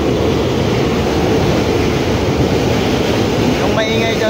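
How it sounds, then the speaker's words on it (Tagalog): A loud, steady rumbling roar of an LRT light rail train passing near a street eatery, with a faint metallic squeal near the end and voices underneath. "Yung maingay dyan guys eh, LRT yan."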